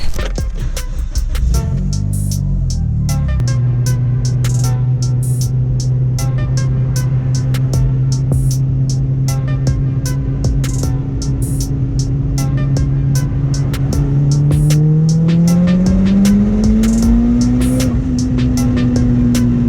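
A Mitsubishi Evo X running E85 with a GT3586 turbo holds a loud, steady engine drone on a dyno, then the pitch climbs smoothly as the pull builds, with no talking.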